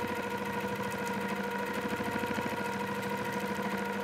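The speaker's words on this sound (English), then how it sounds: "So we're just going to quilt on over to that spine." Sweet 16 sit-down quilting machine doing free-motion quilting, a steady close motor hum with rapid needle pulsing that continues evenly throughout, no speech.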